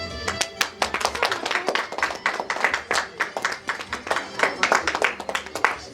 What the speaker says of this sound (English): As you call them, please clap for them.